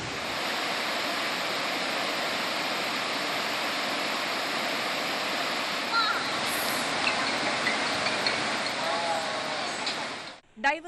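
Water released from Kerala dams such as Kallarkutty, Ponmudi, Lower Periyar and Malankara rushes out in a steady, loud, broadband roar that continues unbroken for about ten seconds, then cuts off abruptly near the end.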